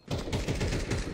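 Rapid automatic gunfire from a FACEIT shooter video game, a dense burst of loud, closely spaced shots running continuously for about a second with no pause.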